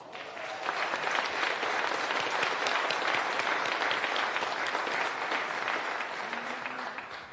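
Sustained applause from a large standing audience at a public event in El Paso, steady and dense for the whole stretch with no voices breaking through.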